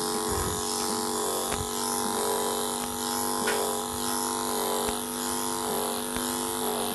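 Electric clippers fitted with a snap-on comb buzz steadily and close up while trimming an Old English Sheepdog's coat, the motor's hum broken by brief ticks and shifts as the blade moves through the hair.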